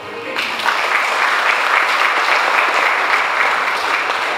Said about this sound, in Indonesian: Berikan aplaus untuk mereka berdua.